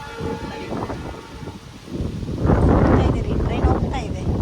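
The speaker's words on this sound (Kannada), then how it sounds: "ಟ್ರೈನ್ ಹೋಗ್ತಾ ಇದೆ" A train rumbles past outdoors, a low, broad roar that swells and grows louder in the second half, mixed with wind noise and people talking.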